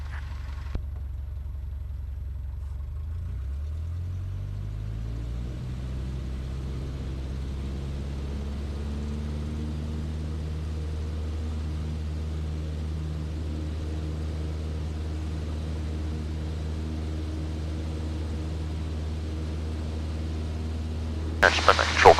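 A light training aircraft's engine drones steadily during a normal takeoff, its pitch climbing smoothly as power builds, then holding a constant loud hum throughout.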